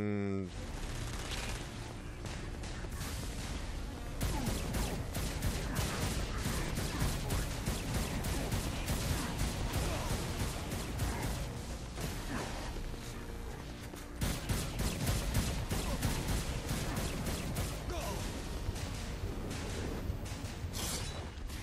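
Rapid, sustained submachine-gun fire from Saints Row 4: Gat Out of Hell on PS4, with dense back-to-back bursts running nearly nonstop at close range and loud volume, a brief dip midway, and game sound layered underneath.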